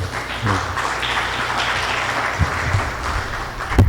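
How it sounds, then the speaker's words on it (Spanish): A medical audience at a hospital lecture on paraneoplastic syndromes offers brief, moderate applause. The clapping forms a fairly steady crowd texture with a few heavier thumps near the end. "Un aplauso para el doctor"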